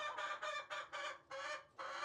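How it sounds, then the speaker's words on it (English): Ancona chickens on a roost clucking and squawking in a string of loud, close, agitated bursts separated by brief pauses, with no talk. "The Ancona are the flightiest chickens we have."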